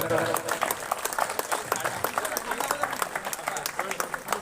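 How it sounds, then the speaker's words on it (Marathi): Continuous clapping rings out at an alumni gathering at a school in Akola, as a crowd applauds in dense, rapid, steady bursts with voices mixed in. "टाळ्या कंटिन्यूस चालू ठेवा"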